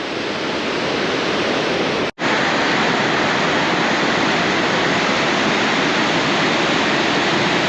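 The Astore river in Gilgit-Baltistan roars as a loud, dense, continuous rush of water. The wash holds steady throughout apart from one abrupt split-second dropout, and no voices are heard.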